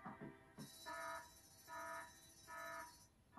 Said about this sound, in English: The alarm's gone off again.